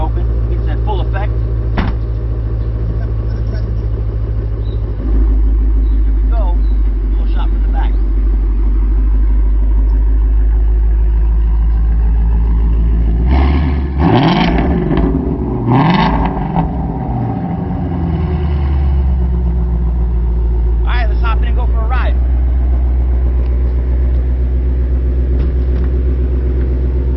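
A brand-new car idles with a deep, steady exhaust rumble close to the microphone, the tone shifting partway through and a brief surge of louder revving near the middle, with occasional talk over it.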